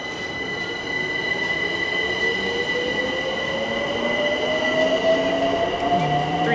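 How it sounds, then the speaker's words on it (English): A Class 378 Overground train to Stratford sits idling at a station, a steady electric hum with rising whine tones and a faint squeal from the wheels, heard close and continuous with no voices. "this Stratford train just seems to be temporarily stuck here"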